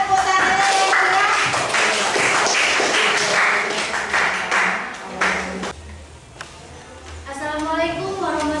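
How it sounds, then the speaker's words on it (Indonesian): Students in a high school classroom clap for a presenting group, a loud burst of hand claps that fades after about five seconds, followed by voices speaking nearby. "Silakan teman-teman yang lain beri semangat, tepuk tangannya yang keras."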